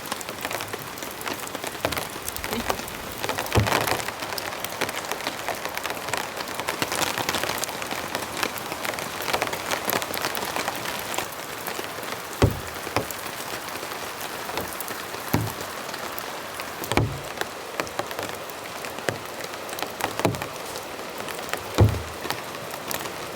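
Rain pattering steadily on a tent and tarp at a campsite in stormy weather, a dense close hiss broken by heavier thumps and flaps at irregular intervals, with no talk.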